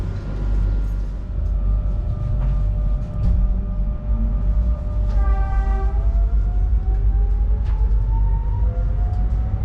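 A passenger train on the Madrid to Lisbon route rumbles steadily past Santarém, with a low rolling drone throughout and a rising horn or whistle tone sounding midway, clear and close, with no talk.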